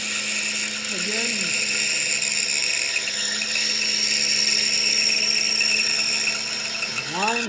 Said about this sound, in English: our next cut is to cut off the bottom of the box